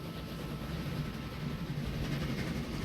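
A train rolls steadily through the railway-building game Train Fever, giving a continuous low rumble with faint rhythmic rattling that holds an even loudness throughout, with no voices.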